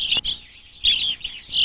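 Small birds chirp and tweet at backyard feeders in winter into spring, with bright, high calls in short bursts separated by brief pauses, close and clear with no talking.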